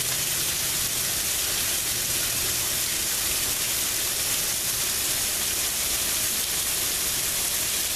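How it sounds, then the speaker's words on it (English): Steady rain falls outside on a June day, a dense, even hiss of drops on surfaces that holds constant and fairly loud from start to finish, with no talking. "I'll give you guys my short vlog video of it's raining outside."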